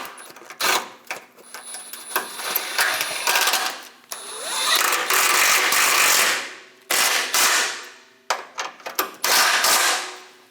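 Bolts being snugged down on a Chevrolet Express 2500 steering shaft, with repeated ratcheting bursts and metallic clicks of fairly loud close mechanical work, broken by short pauses.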